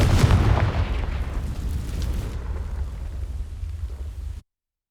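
A Confringo fire spell in Hogwarts Legacy sets dry vines ablaze: a loud booming burst up front that rolls into a rumbling, crackling roar of flames, fading steadily before cutting off abruptly.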